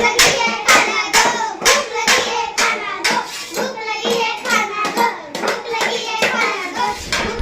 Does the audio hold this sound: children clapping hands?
yes